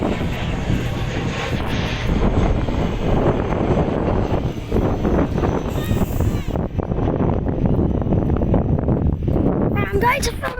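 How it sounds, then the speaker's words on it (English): An airliner taking off at Manchester Airport, its engine roar a steady, loud broadband rumble across the whole clip, with wind buffeting the microphone and faint talk underneath. "So we've just seen an airliner plane that's taking off"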